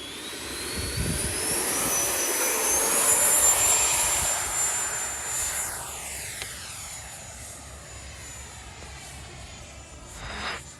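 A Freewing Eurofighter Typhoon 6S 90mm EDF model jet rolls down the runway and lifts off, a loud, rising ducted-fan whine that peaks and then recedes into the distance, with no voices over it.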